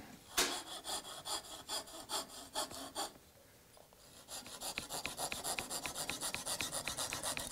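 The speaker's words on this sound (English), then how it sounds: "this is perfect to cut the dowels." A hand saw cuts through wooden dowels in steady back-and-forth rasping strokes, close and fairly quiet, pausing briefly before a faster run of short strokes resumes.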